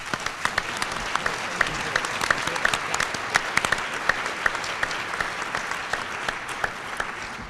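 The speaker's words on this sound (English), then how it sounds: "Please give them a round of applause." Steady applause from an audience at a civic year-in-review panel event, many hands clapping densely and evenly throughout, moderately loud and filling the room.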